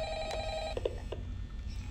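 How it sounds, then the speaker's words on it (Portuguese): A telephone rings in the demo of the horror video game Five Nights at Freddy's, a steady tonal ring that cuts off after under a second, followed by a few soft clicks and low background hum. "Telefone tocando."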